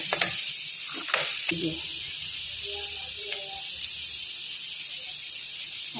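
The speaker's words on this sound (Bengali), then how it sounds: "মশলাটা ভালো করে কষাতে হবে, তাই মশলাটা কষিয়ে তারপর আমি নুন দিয়ে দেবো।" Spice paste (masala) sizzling as it is sautéed in a pan, a steady frying hiss with occasional scraping stirs and a few brief faint voices.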